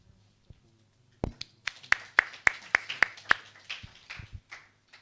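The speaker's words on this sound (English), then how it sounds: "A round of applause for our panelists." A small audience at a Q&A session applauds the panelists with about a dozen crisp, separate handclaps that start suddenly, then thin out and fade after a few seconds.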